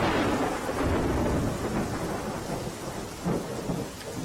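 Heavy downpour during a thunderstorm in Porbandar, with a steady roar of rain and low rumbling thunder rolling throughout, loud and continuous with no voices.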